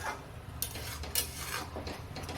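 Carrot halwa being stirred in a pan over full gas flame, a spoon scraping and knocking against the metal in irregular close strokes over a low sizzle.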